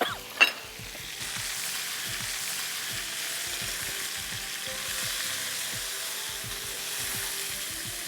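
Chicken karahi sizzling and frying in a pan, with steady hiss throughout and repeated scraping stir strokes, plus a sharp clink near the start.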